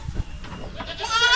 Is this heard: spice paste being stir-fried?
no